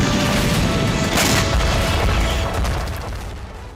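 Ukrainian artillery fire on Russian posts in Donetsk: a heavy, continuous rumbling roar of booms with a louder swell around the middle, fading slightly toward the end, with no talk.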